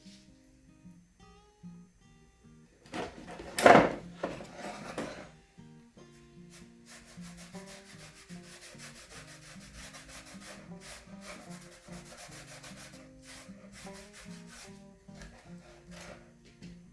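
Gel stain being wiped by hand onto an old wooden box with a light touch gives a soft, continuous cloth-on-wood rubbing, with one louder scrubbing burst early and steady quiet strokes afterward.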